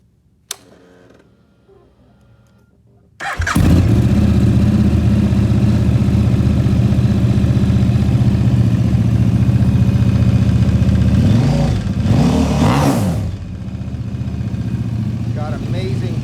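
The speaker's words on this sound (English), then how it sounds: "let's go ahead and start this thing up" After a brief quiet pause and a click, a motorcycle engine fires up and settles into a loud, steady idle nearby, then rises in two quick throttle revs before dropping back to idle.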